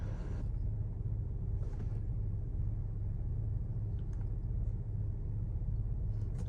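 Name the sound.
car engine running while idling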